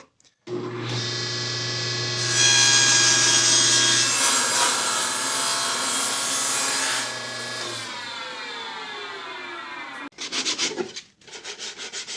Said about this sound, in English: I've got a scrap piece of plywood to put underneath it to set it on so I can make the cut